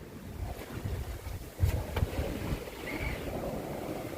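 A sailboat under way off the Normandy coast in a 12-knot crosswind, with steady wind buffeting and water rushing along the hull and a couple of louder thumps from the waves.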